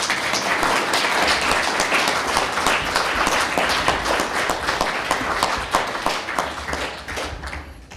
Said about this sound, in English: I would love for another round of applause for you.